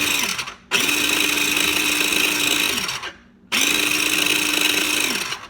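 An electric food chopper finely chopping eggs whirs in two loud, steady pulses separated by a brief pause, each burst winding down as the motor stops.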